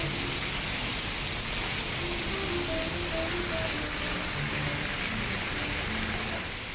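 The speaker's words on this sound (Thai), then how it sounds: "ฝนตกหนักนะครับวันนี้" Heavy afternoon rain falls steadily, producing a dense, continuous hiss that stays loud and even throughout, with faint scattered tones underneath and no talking.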